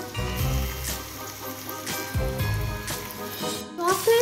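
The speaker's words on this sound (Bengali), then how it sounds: "টক দইটা দিয়ে এবার কিছুক্ষণ সময় লেগ পিসগুলো আর গোটা মশলার সঙ্গে ভালো করে নেড়ে চেড়ে নেব" Chicken leg pieces are stirred in a hot pan with sour yogurt and whole spices for dhaba-style chicken bhuna, giving a continuous moist sizzle with soft scraping pulses over faint background music.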